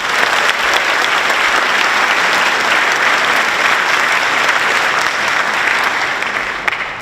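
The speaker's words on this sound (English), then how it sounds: "Give yourselves a round of applause." An audience at a high school scholarship night applauds, a dense steady burst of clapping lasting about seven seconds before tapering off.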